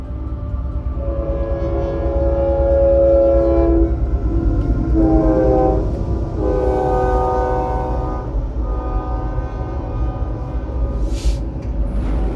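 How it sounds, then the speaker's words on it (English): A train in the Metroid Prime 3 video game passes with a loud, sustained horn blaring in long tonal blasts over a heavy rumbling rail roar, no talk. "Like that train!"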